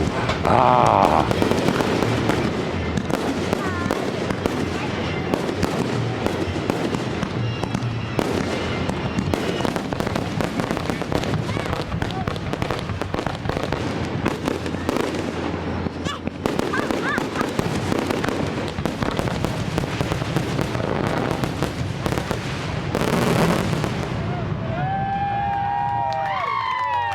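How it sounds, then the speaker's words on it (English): Fireworks at an Independence Day celebration in Laurel, Maryland: dense, rapid bursts and crackling firecracker pops going off continuously, with a crowd cheering and shouting around them and whistling rockets near the end. "when you are lighting these things off"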